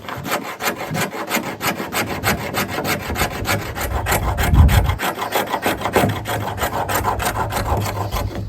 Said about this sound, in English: As hard as this wood is, we'd probably be better off just to make scrapings.